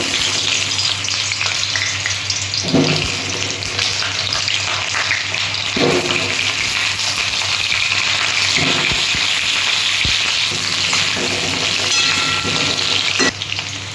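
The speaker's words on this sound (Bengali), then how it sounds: "আমি প্রথমে আলুটা ভেজে নেব।" Potatoes fry in hot oil for a mutton and papaya curry, giving a loud, close, continuous sizzle. Occasional stirring knocks and scrapes sound against the pan.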